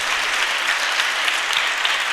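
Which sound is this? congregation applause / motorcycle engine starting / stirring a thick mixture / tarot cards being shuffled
congregation applause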